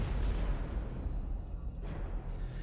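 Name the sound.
bomb explosion boom, video game 428: Shibuya Scramble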